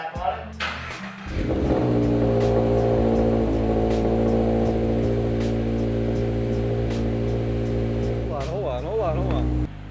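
A 2022 Subaru BRZ fitted with a Faction Fab catback exhaust starts up and drives. Its steady engine drone with layered harmonics holds loud for several seconds, and a voice is heard near the end.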